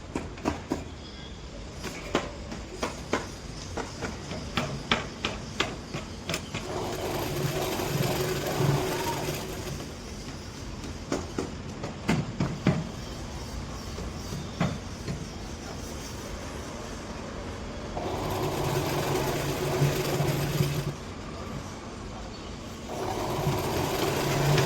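A sewing machine stitches a khan-fabric frock in several bursts of fast, close mechanical whirring, separated by pauses filled with small clicks and handling noises.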